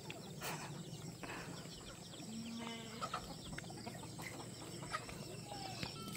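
Chickens and chicks on a farm cluck softly and intermittently. Small peeping calls are scattered through a steady, faint outdoor background with no talking.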